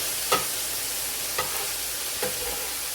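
Ground beef bulgogi sizzles steadily on a flat-top griddle, with three brief stirring scrapes spaced across the steady frying hiss.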